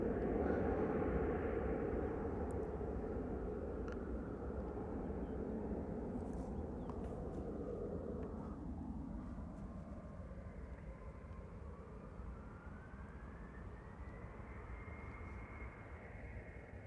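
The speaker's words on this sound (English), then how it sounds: "It's looking like an Embraer 190 to Hamburg is now lining up via Cheater's Lane." An Embraer 190 jet bound for Hamburg lines up at Amsterdam Schiphol on a sunny morning, its engines giving a steady, broad roar at moderate distance, with a slowly rising whine toward the end and no talk.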